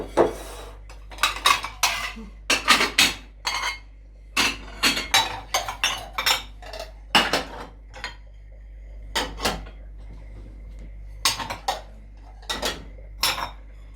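Dishes, pots and glasses clink and clatter during washing up in a home kitchen, a steady run of close, sharp metallic and glassy knocks in uneven bursts with no talk.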